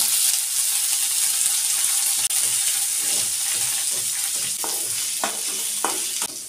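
Eggplant pieces fry with sautéed onions in an oiled pan, a steady close sizzle with occasional spatula scrapes and clinks as the mixture is stirred.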